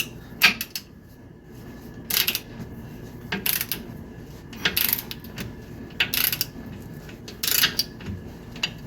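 A torque wrench set to 140 pound-feet clicks as bolts on a Squarebody truck are tightened in a crisscross pattern, giving about seven sharp, close metallic clicks spaced a second or so apart over a faint background hum.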